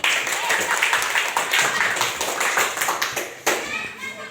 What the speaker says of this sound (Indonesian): bisa tepuk tangan untuk Fahmi